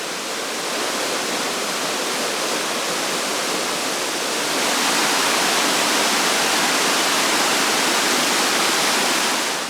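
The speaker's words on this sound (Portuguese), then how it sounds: "um riacho despenca por uma série de degraus rochosos" Progonat waterfall in Albania, a stream cascading down a series of rocky steps, makes a loud, steady broadband rush of falling water that fills the whole stretch without pause.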